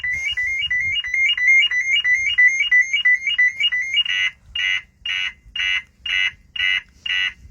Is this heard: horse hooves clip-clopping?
no